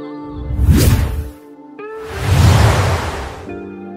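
Two separate whoosh sound effects sweep past, each a loud airy rush rising and falling, the second broader and longer, with short tonal digital chimes between and after them, from a free motion-graphics sound library.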